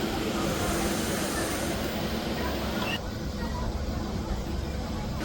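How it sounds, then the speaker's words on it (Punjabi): A passenger train pulls away from Ambala City station, giving a continuous loud rumble and rattle of the moving carriages with a voice talking over it. "ਜਿਹੜੀ ਟ੍ਰੇਨ ਆ ਚੱਲ ਪਈ ਆ"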